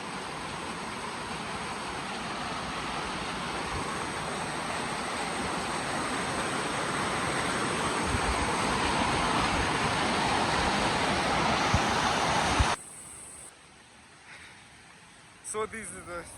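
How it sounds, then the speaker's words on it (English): Waterfall in the Kirinyaga gorge: a loud, steady broadband roar of falling water that builds slightly and then cuts off abruptly into quieter background. "So this is the first falls, so that we can go down."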